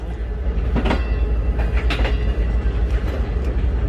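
A Pakistan Railway train stands at Hyderabad Junction station, with a steady low rumble and sharp clanks and squeals of wagons and platform activity around it, fairly close and loud, with no speech.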